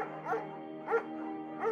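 A German Shepherd barks in the video game Firewatch, three short, clear woofs spaced evenly apart over a steady background hum.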